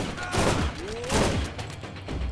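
Bursts of gunfire from the looter shooter game Borderlands, a few loud pulses spaced roughly half a second apart, with a faint whistling tone gliding through the middle.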